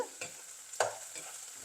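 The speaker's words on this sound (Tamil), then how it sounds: "இப்போ இது நல்லா வதங்கி ஃப்ரை ஆகட்டும் வெங்காயமும் பூண்டும் பச்சை வாசனும் போகட்டும்" Onion and garlic frying in a pan for prawn biryani give a soft, steady sizzle, broken by two quick scraping stirs of a spoon.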